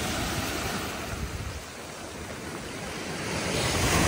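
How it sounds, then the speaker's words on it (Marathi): Large sea waves crashing in heavy rain and wind, a loud continuous roar of surf and gusting wind that eases briefly and then swells again toward the end. "एक लाट अचानक एकदम मोठी येते त्याच्यात"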